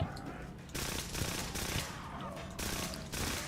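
Rapid bursts of automatic gunfire in a first-person video game, clustered volleys separated by short gaps, steady and fairly loud throughout.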